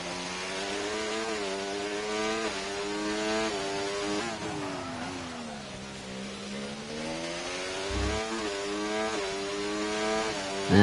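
A racing car engine at full throttle up a hill in a Brazil round, a loud, steady roar whose pitch climbs and drops with the shifts and never lets up.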